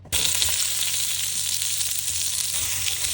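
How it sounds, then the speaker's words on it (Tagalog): Chopped onions frying in a pan for Filipino beefsteak, giving a loud, steady, dense sizzle that starts abruptly and runs without break, with faint low clatter underneath and no talking. "Unahin lang muna natin i-fry yung sibuyas para naka-ready na."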